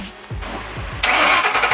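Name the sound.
2010 Shelby GT500 engine first startup with Roush axle-back exhaust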